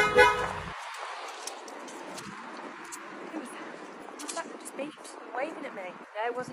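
A white Ford Focus gives short car-horn beeps on a street, brief toots heard under and between talking voices nearby.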